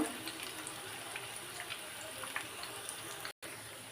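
Batter-coated kalmi greens pakoras sizzle steadily in hot oil, a continuous close crackle with a brief dropout near the end.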